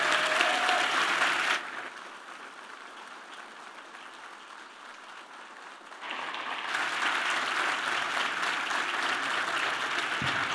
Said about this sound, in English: let's give everyone a huge round of applause